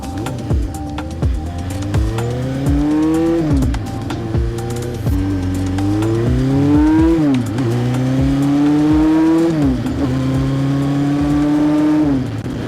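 A 1973 Honda motorcycle engine revs hard and loud, close by, with repeated rising throttle sweeps that climb and drop back several times across the stretch, no talk over it.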